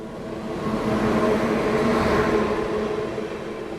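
The Thiruvananthapuram Rajdhani Express overtakes with a steady rumble that swells and fades, heard from inside a passenger train, a continuous rolling roar with no talk.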